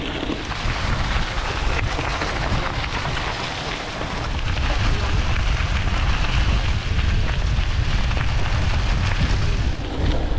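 Rain and wind roar steadily during a night gravel bike ride in the New Forest in winter, a dense unbroken hiss that swells slightly louder partway through.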